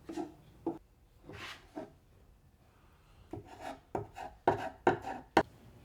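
A tool rubs and scrapes wood filler into small gaps in a wooden shelf box, giving soft irregular strokes that grow sharper and quicker toward the end.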